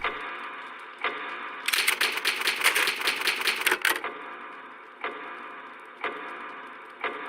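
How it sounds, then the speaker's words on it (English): Typewriter save from Resident Evil HD Remaster: a dense, rapid run of mechanical key clacks in the middle of the clip, set against a steady ambient game drone with a few isolated ticks before and after. "The ink ribbon and the typewriter."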